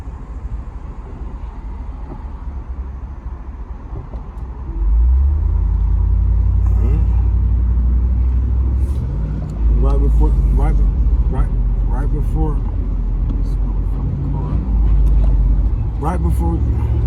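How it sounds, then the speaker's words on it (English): Cars pass on a city street in Columbus, Ohio, heard from inside a waiting vehicle. A low, steady engine rumble swells loudly halfway through and holds, with muffled voices. "But I'm letting all these cars go, so I ain't gotta really rush it."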